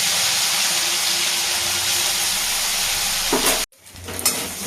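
Ginger, green chili and nigella seeds fry in hot ghee in a pan with a loud, steady sizzle that cuts off abruptly near the end, then returns fainter.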